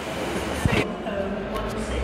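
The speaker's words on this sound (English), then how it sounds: "that's the train going back to Blackpool South" A train heading to Blackpool South rumbles steadily nearby at St Annes station with a brief clatter, and a voice speaks over the continuous mechanical noise.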